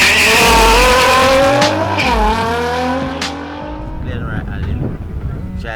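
A Nissan GT-R R35 races down a drag strip, the engine roaring loudly and climbing through gears with rising whine, then fading into distance as crowd and announcer-like voices continue underneath.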